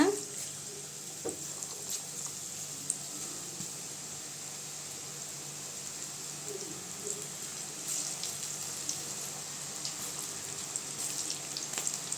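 Medhu pakkoda (soft Tamil pakoda or bonda) batter dropped in small portions into hot oil, giving a steady, moderate frying sizzle throughout with a few faint clinks and no talk.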